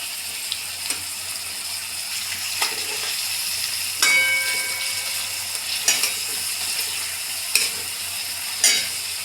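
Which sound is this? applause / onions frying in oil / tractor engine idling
onions frying in oil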